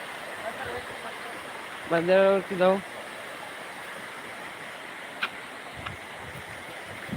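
Steady, rushing flow of water near a village temple during heavy rains, a continuous broad wash of sound with someone briefly speaking over it.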